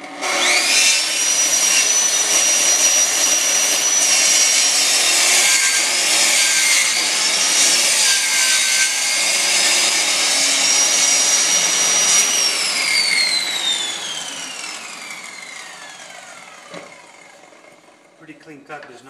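A Festool plunge saw makes stopped plunge cuts to open a small window in a piece of MDF. A loud, high-pitched whine of the blade cutting runs for several seconds, then the motor spins down and the sound fades out.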